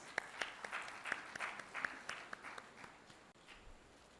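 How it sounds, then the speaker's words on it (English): Audience applause for a keynote speaker at a regional AI summit, with scattered distinct claps over a soft crowd wash that thins out toward the end. "Can we please welcome him with a huge round of applause?"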